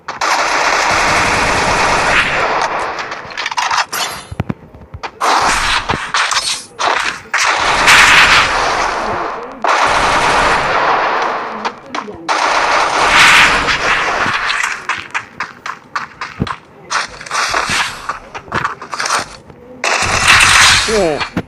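Rapid automatic gunfire from the Free Fire video game comes in loud bursts and stretches with short breaks between them, while a voice talks excitedly over parts of the shooting.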